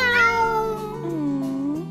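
A cartoon cat gives a close, clear meow that slides upward in pitch, then a second long, wavering call that bends down and rises again at the end, with no talking.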